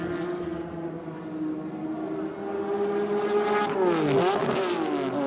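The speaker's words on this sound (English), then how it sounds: "Yeah, missed the gear again." A race car at Adelaide International Raceway in 1981 holds a steady engine drone as the driver misses a gear. Partway through, the pitch drops and the engine rises sharply again into a louder, harsher revving surge.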